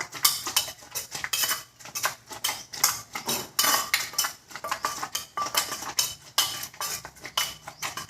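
Isan-style bamboo shoot soup with toasted rice and spring onion is stirred in a pot, producing loud, rapid, rhythmic clinks and scrapes of a metal utensil against the pot throughout, with no talking.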